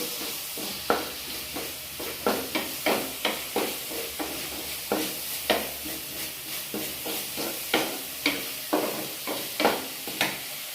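Ingredients for a dried-shrimp thoran are stirred and mixed in a pan, with a quick, regular run of scraping spoon strokes over a soft, constant sizzle, close and steady throughout.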